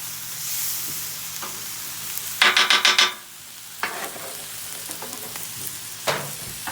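Beef sizzles in a hot pan as it is pushed over into fried rice, with a quick burst of rhythmic scraping strokes and a few scattered stirs against a steady low frying hiss.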